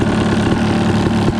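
A dirt bike with a non-counterbalanced engine runs at a steady, close, loud drone that rises and falls slightly in pitch, with no talking.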